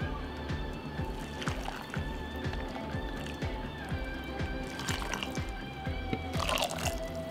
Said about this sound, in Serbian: sada ću je napuniti sa proključalom vodom